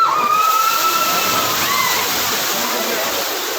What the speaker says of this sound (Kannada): ಸೊ ಆ ಬಕೆಟ್ ಫುಲ್ ತುಂಬ್ಕೊಂಡ್ಮೇಲೆ ಕಂಪ್ಲೀಟಾಗಿ ಅದು ಈ ಸೈಡ್ ವಾಲುತ್ತೆ. ವಾಲದ ಮೇಲೆ ಇಲ್ಲಿರೋರಿಗೆ ನೀರು ತುಂಬುತ್ತೆ.